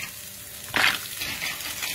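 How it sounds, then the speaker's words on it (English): Onions and garlic sweat gently in a pan, giving a soft, steady sizzle with a brief louder burst of hissing partway through, close and alone without talk. "we're not frying the onions, we're just sweating it off"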